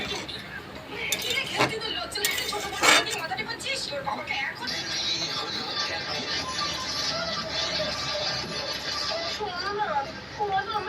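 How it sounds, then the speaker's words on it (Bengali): A metal spatula stirs chicken curry in a pot, giving a few light clinks and scrapes under continuous talking and background chatter. "খুন্তি করে একটু নাড়াচাড়া করে মিশিয়ে দিলাম"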